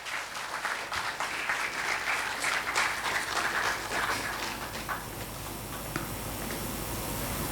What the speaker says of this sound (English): With huge round of applause, may I invite Sachin Kodolikar to join the panel